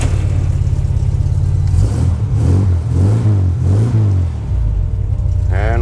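A 1974 VW Super Beetle engine runs steadily after starting, a loud, close, low rumbling idle with a few rising revs in the middle, no talk over it.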